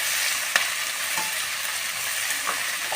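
Spiced potato sabzi with hing frying in a pan and being stirred, a dense close sizzle broken by a few sharp scrapes and clinks of the spoon, with no talking.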